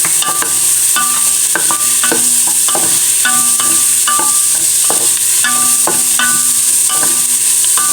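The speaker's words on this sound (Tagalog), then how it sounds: "Gisa na rin na po natin ang ating luya" Ginger is sautéed with onion and garlic in a tall pot, giving a loud steady sizzle with repeated rhythmic scraping strokes of a utensil stirring against the pot.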